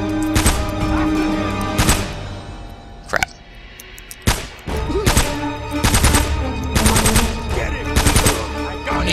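Video game gunfire from Uncharted: Drake's Fortune, with loud bursts of automatic fire and single booming shots repeating across the scene, broken by a short quieter gap.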